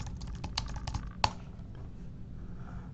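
Quick bursts of keystrokes on a computer keyboard, a brisk run of close clicks ending in a single sharper key press, then quiet.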